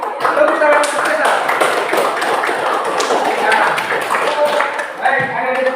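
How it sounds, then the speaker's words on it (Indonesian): Classroom applause for a student named Tessa, a dense, steady patter of many hands clapping close by that runs unbroken throughout, with voices mixed in. "Tepuk tangan untuk Tessa."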